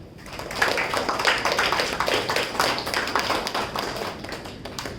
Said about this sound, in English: let us give a round of applause to Gio Rishit for completing the CC3 speech.